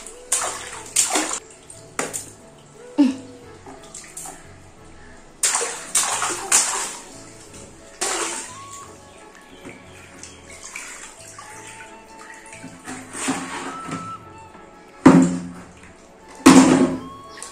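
A 10-month-old baby splashes in cool tub water, with repeated sharp slaps and sloshing bursts coming close and loud at irregular intervals, and quieter dripping and water movement in between.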